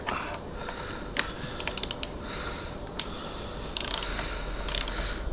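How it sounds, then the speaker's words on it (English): A 32mm top nut on a Honda CRF450 steering stem being tightened with a ratchet, giving clicking mechanical pawl bursts in several quick runs, close up over a steady hum. "So now I'll tighten this top 32mm nut up."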